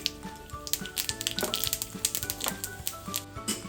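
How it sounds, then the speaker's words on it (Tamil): Mustard seeds and urad dal sizzle and pop in hot oil in a pan, a dense crackle with rapid sharp snaps throughout, close and steady with no voices. "இப்போ கடுகு உளுத்தம் பருப்பு நல்லா பொரிஞ்சதுக்கு அப்புறம்"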